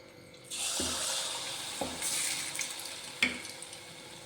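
After a brief quiet moment, batter hits hot oil and a steady, rushing sizzle begins, with a few sharp pops and taps along the way.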